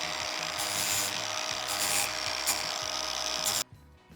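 A cut bolt stud on a car spoiler being smoothed on top with a linisher, giving a steady high-pitched grinding whir with a few brief surges before it cuts off abruptly near the end.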